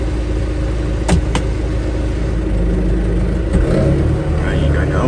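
A farm vehicle's engine rumbles loud and close with a steady, deep drone as it gets under way, with a couple of brief sharp clicks over the running motor.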